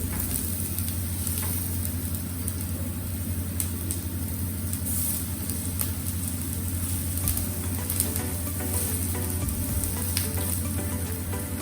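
Zucchini rounds sizzle steadily on a grill while grilled vegetables are prepared, a continuous, fairly loud frying hiss with faint scraping and stirring underneath and no talk.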